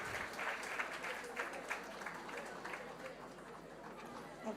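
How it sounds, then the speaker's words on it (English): An audience at a science festival applauds in a steady, dense wash of clapping that carries through the whole stretch, with a few murmuring voices mixed in. "Give him a big round of applause"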